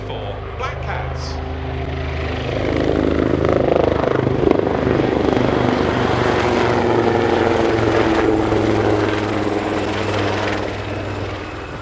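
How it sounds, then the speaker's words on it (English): Royal Navy Leonardo Wildcat HMA.2 helicopters of a display team run in at an air show, their rotor thump and turbine roar swelling loud from a distance and holding strong overhead. "Running in straight in front of you, the Leonardo Wildcat HMA.2s of the Royal Navy Helicopter Display Team"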